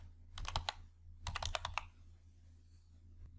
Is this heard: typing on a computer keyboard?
yes